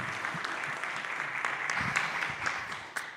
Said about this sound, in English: So please welcome with a big applause, Brian.